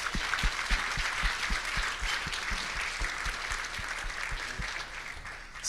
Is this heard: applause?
yes